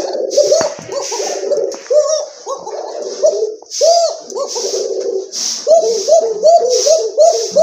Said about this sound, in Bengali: এই যে দেখেন কবুতর ডাক দেখেন